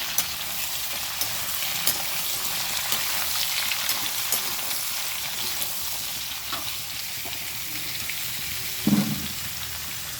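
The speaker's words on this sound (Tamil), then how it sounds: "இந்த கேரட்டை நல்லா மிக்ஸ் பண்ணிடலாம்" Large carrots cut into pieces, stirred in a pan for a carrot poriyal. A steady close sizzle of frying continues under soft, repeated scraping strokes, with one louder knock near the end.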